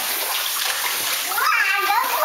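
Water runs and splashes in a bathtub, a continuous rushing wash with sloshing, and a voice speaks over it.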